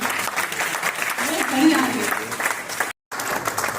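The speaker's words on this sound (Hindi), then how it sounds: "तालियों से इस्तकबाल कीजिए।" An audience at an Urdu literary award ceremony applauds to welcome the presenter of a fiction award, a steady wash of clapping that runs throughout with a brief gap near the end.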